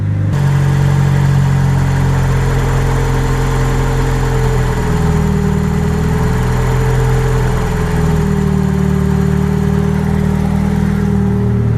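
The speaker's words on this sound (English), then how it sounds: "Idle went down quite a bit there" A car engine idles loud and close after the idle air control valve is deleted and the idle screw is backed off, a steady hum with a slight dip in pitch partway through, no voices.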